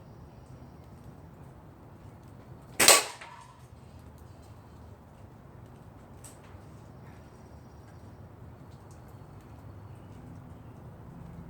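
A single sharp report from a Daisy 35 air rifle pumped seven times, fired at a target in a side-by-side test against a Remington 1100 shotgun; one loud crack rises out of quiet outdoor ambience, with a faint click a few seconds later.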